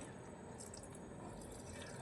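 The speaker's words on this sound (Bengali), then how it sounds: "তোমার গাছে জল দিচ্ছি" Water poured onto a potted plant on a home balcony, a soft steady trickle and splash with faint drips, fairly quiet and continuous.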